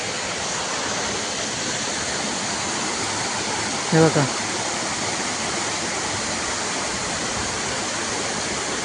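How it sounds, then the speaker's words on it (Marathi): A waterfall at Gangechiwadi pours with a steady, dense roaring rush that stays unchanged throughout, and someone speaks briefly once over it. "आपल्या सुंदर निसर्ग इथे तयार झालेला धबधबा आहे"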